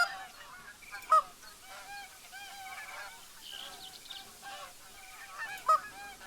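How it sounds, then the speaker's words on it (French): Geese honk repeatedly in a hunting video game, a flock of overlapping nasal calls at moderate distance, steady and fairly quiet, with a couple of sharp louder clicks and no talk. "il y a encore des oies, quoi, c'est incroyable."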